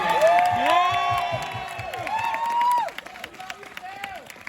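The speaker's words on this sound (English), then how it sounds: "let's give another round of applause to Colleen, the one and only fan." A crowd at a live film cast Q&A cheers and whoops loudly over scattered clapping, with high excited shouts rising and falling before the noise quickly dies down.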